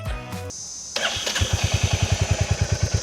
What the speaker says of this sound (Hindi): I'll show you guys the exhaust sound as well.